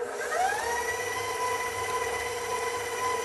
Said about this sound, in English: All right, into the mixer,